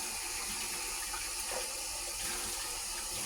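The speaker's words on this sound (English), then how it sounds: "just giving it a good rinse again" Tap water runs steadily over a cup being rinsed at a sink, a continuous close splashing hiss with no talking.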